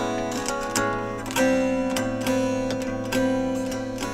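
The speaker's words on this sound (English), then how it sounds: "Acoustically, it sounds like this." Heritage H550 electric guitar strummed unplugged, its bare acoustic string tone ringing in steady chords, close and moderately quiet, with no voices.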